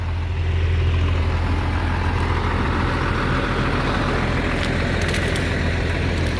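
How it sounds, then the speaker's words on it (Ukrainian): A steady, loud engine drone with heavy low rumble, continuous and unchanging, from a tractor working nearby pulling a Lemken Diamant plough in a field. "Бачите, як трактор їде."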